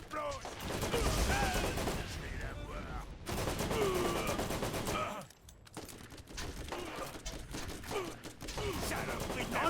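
Dense, continuous video game gunfire from Borderlands, with rapid bursts of shots and explosions layered over music and effects, briefly dropping out midway before resuming; people talk over it.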